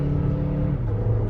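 2020 Jeep Compass with a 9-speed automatic transmission accelerating, a steady, droning engine rumble heard from inside for a brief moment, its pitch dropping slightly partway through.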